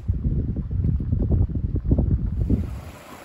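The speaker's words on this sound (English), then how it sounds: "It looks like the wind's kicking up. And it's coming from the east, and this like lake is miles and miles long." Strong east wind and waves on a miles-long lake with whitecaps starting to whip up, a loud continuous rush and buffeting roar of wind on the microphone.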